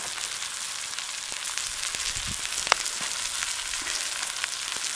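Butter sizzles and fries steadily in a pan alongside a ribeye steak cooked over an outdoor bushcraft fire, a continuous bright crackling hiss with a few sharper pops.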